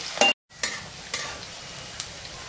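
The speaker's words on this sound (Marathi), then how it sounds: "आता आपण मिरची टाकून घेणार आहोत। आपल्याला छान अशी कडक तळून घ्यायची आहे" Chilies fry in hot oil for poha chivda, giving a soft continuous sizzle with a few stirring scrapes and a brief gap near the start.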